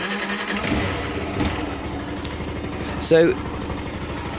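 A Yamaha YS 125 motorcycle cranks and fires up, settling into a steady close idle with a rhythmic exhaust pulse and a brief sharp mechanical blip partway through; someone speaks briefly over it.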